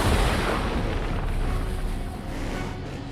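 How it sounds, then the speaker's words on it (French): A deep, rumbling cartoon explosion in a Hot Wheels Monster Trucks scene, a sustained boom with a broad, noisy roar that slowly fades over a few seconds. "Cette explosion, c'est toi?"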